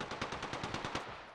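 Rapid automatic gunfire from Apex Legends, a close, loud burst of evenly spaced shots fired in quick succession for just over a second, with no voices over it.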